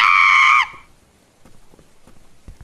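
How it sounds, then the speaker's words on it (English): A loud, shrill scream bursts out up close for about half a second, then cuts off and gives way to quiet, faint tapping and shuffling. "Chat, why would you scream like that?"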